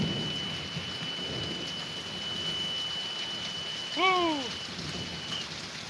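Steady heavy rain with lightning hisses throughout; a person whoops excitedly near the end, with no clear thunder rumble standing out.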